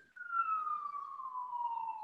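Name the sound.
police sirens outside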